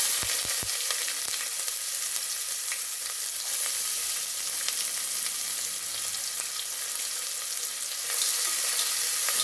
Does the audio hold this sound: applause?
no